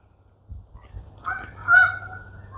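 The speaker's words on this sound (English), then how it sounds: "Geese in the pond." Geese on a pond at Woodmere Cemetery in Detroit give several honks in October, starting faintly, then rising to one loud, nasal call near the end over a low background rumble.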